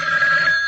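A telephone bell rings in a short, sustained burst, loud and close, with no one talking over it.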